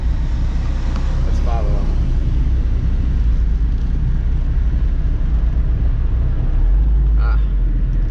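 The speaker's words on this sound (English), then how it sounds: "But this Alfa Romeo sounds really good." Traffic rumble fills the clip from inside a moving car, with an Alfa Romeo Giulia driving just ahead and a steady low engine drone running throughout; someone speaks briefly over it.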